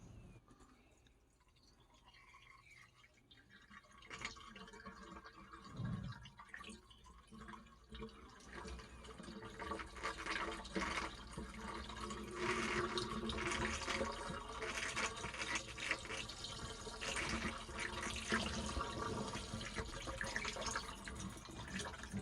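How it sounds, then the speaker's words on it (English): A cleaning mixture poured into a funnel set on the interior drain line of a clogged air conditioner, giving a soft liquid trickle and splash that starts quiet and grows into a steady pour, with no voices. "we're going to go ahead and pour the mixture in there"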